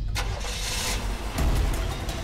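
A car engine catches and rumbles, with a low surge about midway as it revs before pulling away, heard at moderate distance with no talk over it.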